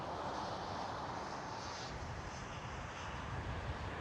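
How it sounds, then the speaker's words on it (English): Transavia Boeing 737 jet landing at Schiphol Amsterdam, heard from a distance as a steady, faint, broad engine roar that stays continuous throughout with no voices. "a Transavia 737 just landed on the center runway"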